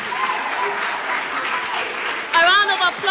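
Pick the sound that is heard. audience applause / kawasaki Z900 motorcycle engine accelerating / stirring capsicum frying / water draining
audience applause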